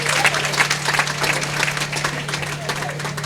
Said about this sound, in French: Applaudissons Dieu pour Thérèse Coco.